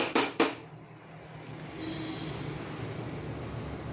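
A metal lid clanks twice onto a pan of tomato rice cooking with soya chunks, two sharp near clangs in quick succession, followed by a low steady simmer.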